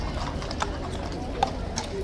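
Police horses at Horse Guards clip-clopping their hooves on the ground in a crowd of tourists, a few faint irregular hoof knocks under steady background noise and chatter.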